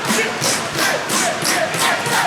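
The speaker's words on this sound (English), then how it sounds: "Not very often you hear a crowd get this loud for anyone." A loud crowd at an indoor wrestling show on a concrete floor roars and cheers, with rising and falling waves of shouting that fill the room, no commentary over it.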